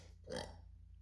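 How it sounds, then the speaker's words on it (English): A pet lets out one short, close burp in a quiet room, a single rough gulp standing alone with no talking. "just let out a burp"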